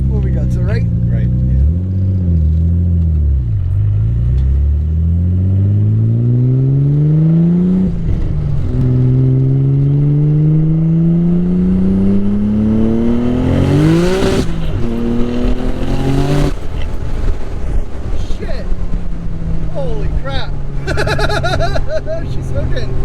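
A 900+ wheel-horsepower Nissan 300ZX engine roars and revs hard on a dyno, pitch climbing steadily through the gears, loud and continuous with voices and crowd noise underneath.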